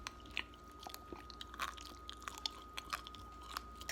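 Undercooked spaghetti noodles still crunchy in a home kitchen are chewed close to the mic, giving soft, irregular crunching bites in a quiet room.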